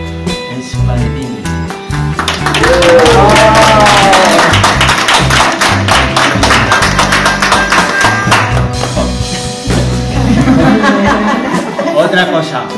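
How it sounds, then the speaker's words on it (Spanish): A circus audience claps loudly in a dense, sustained burst to welcome a clown on stage, with laughter and chatter mixed in and the applause thinning toward the end. "Recibamos con un fuerte aplauso al payaso"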